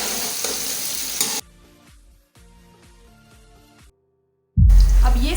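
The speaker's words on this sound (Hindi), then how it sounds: "प्याज थोड़े से ब्राउन हो जाएंगे तब तक हमने वेट करना है" Onions frying in a pan for kuska rice, a dense close sizzle that cuts to a quiet stretch with soft tonal sounds, then returns louder near the end.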